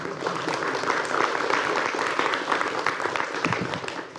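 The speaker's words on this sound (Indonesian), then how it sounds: "boleh tepuk tangan?" An audience at a government policy speech on net zero emissions applauds, a dense, steady wash of clapping lasting the full few seconds with no voice over it.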